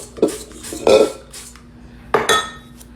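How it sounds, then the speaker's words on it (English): Bowl being greased for soft, stretchy English muffin dough: a few light clinks and knocks against a kitchen bowl, two brief clusters about a second apart, close and moderately loud with no talking. "I'm gonna grease the bowl."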